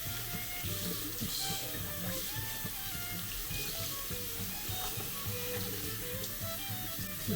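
Running water splashes steadily in a sink as laundry is hand-washed and rinsed with hot water, a continuous close, fairly quiet wash with no speech.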